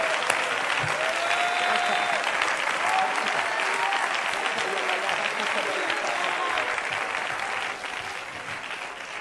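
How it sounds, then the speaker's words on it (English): A church congregation claps steadily and densely throughout, a broad wash of many hands at a revival service, with faint voices mixed underneath and the applause easing slightly near the end. "Clap your hands to the Lord and give him praise."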